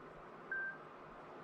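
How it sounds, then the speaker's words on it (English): A phone gives off a short electronic dialing beep that holds for about a quarter second, then stops, over a quiet workbench background while an airsoft brushless motor's pinion is being swapped. "Shut up, phone."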